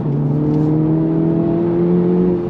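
A 2024 Acura Integra Type S accelerating hard on throttle, its engine a loud, steady rising drone heard from inside the car, with no talking.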